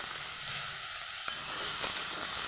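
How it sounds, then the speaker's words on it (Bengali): Small washed, salted potato pieces fry in a pan as they are stirred, giving a faint constant sizzle with a couple of brief scrapes and no speech. "এবং কিছুক্ষণ নাড়াচাড়া করে ভেজে নেব"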